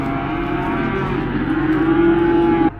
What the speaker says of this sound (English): Do you guys hear those cows?